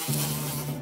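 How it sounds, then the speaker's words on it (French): A cartoon fly gives a close, loud, steady buzz that lasts under a second with no voices. "c'est pas une mouche sur mes lunettes?"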